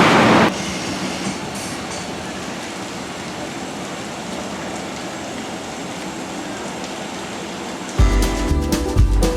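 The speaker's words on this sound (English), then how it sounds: "Welcome to the Ilkley train." Passenger train to Ilkley in Yorkshire running on the rails, a steady close rumble with rhythmic clickety-clack of wheels, ending in a louder burst of clatter and squeal.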